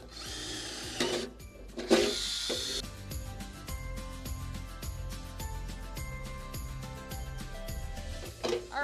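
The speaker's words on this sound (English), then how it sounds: "we've got our holes drilled" Holes are drilled with a power drill during a gardening lesson at a ranch school, heard as short, loud whirring bursts separated by stretches of ringing, tonal workshop sound.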